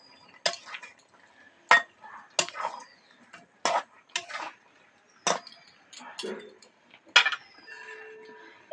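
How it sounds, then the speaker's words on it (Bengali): Fried fish being stirred into a thick gravy in a pan, giving a series of close, separate scraping and clinking strokes with short pauses between them. "এবার এই মাছ ভাজাগুলো দিয়ে দেবো উপর দিয়ে, দিয়ে আস্তে আস্তে করে নাড়াচাড়া দিয়ে নেবো।"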